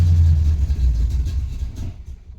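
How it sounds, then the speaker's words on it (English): A car engine with a bad carburetor and faulty float runs loud and rough with a deep rumbling roar close by, then fades and dies away as it stalls. "You guys can see I'm giving it gas. It won't stay running on its own."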